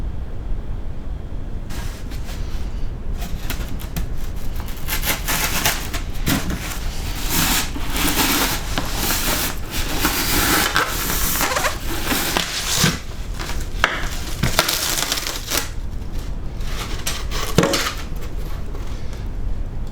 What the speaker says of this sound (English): And the weapon of choice, bread knife.